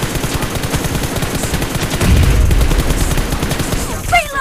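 Rapid bursts of automatic gunfire from the video game PUBG Mobile crackle repeatedly over background music, with a heavier volley in the middle.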